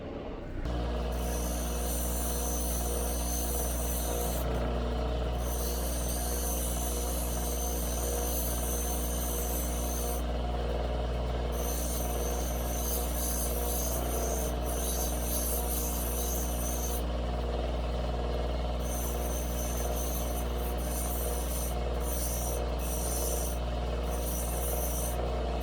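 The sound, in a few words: cutting Ethiopian opal rough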